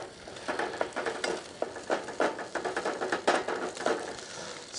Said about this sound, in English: scrambling up that egg